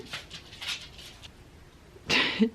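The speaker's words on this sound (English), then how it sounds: "it sounds like the dogs are making their way back into the room" Dogs make their way back into a room of a house: faint scuffling and movement, then a louder close burst of activity with a short whimper near the end.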